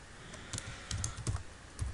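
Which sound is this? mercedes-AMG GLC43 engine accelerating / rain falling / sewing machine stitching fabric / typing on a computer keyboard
typing on a computer keyboard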